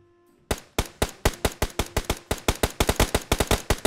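Rapid bursts of automatic gunfire from a shooter video game, about twenty sharp evenly spaced shots in a steady stream after a brief quiet start, loud and close.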